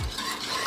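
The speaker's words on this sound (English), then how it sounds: "Let this melt, whisk it round." Butter glaze melts in a pan for a citrus Bundt cake while a whisk swirls through it. A brief, close scrape and swish sounds with a faint metallic tick near the end.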